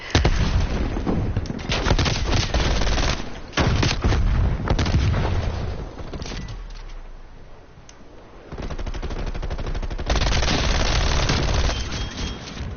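Sustained, loud gunfire from a gun in a PS4 shooter: dense rapid volleys of shots, a short lull, then renewed bursts continuing through to the end.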